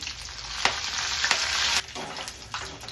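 Chana dal frying in hot oil with cumin, mustard seeds and curry leaves, a close, continuous crackling sizzle broken by a few sharp stirring scrapes and pops.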